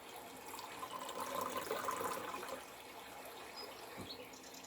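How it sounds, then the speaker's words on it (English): Tea pours steadily into a cup for a few seconds, a soft continuous trickle of liquid close by with a faint clink near the end, with no voices. "We better pour some more tea."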